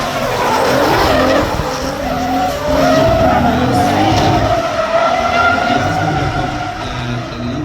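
A V12 turbocharged drift car skids continuously at a drift event, its tires squealing in a loud, sustained wail over the roaring engine for the whole stretch, with faint commentary underneath.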